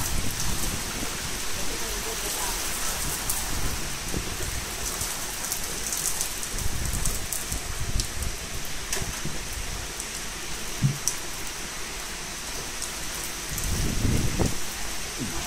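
Heavy rain pours steadily during a thunderstorm in Berlin, a dense close hiss of drops on surfaces throughout, with low rumbles and a few sharper splashes and knocks, and brief voices in the background.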